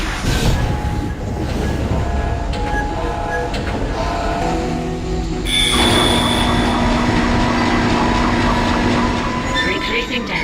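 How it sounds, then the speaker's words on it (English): Rumbling tram car on rails in the Dead Space video game, a damaged car being replaced, with metallic clanks and a sustained wheel squeal or whine rising midway, loud and continuous, with a voice over it. "Replacing damaged tram car."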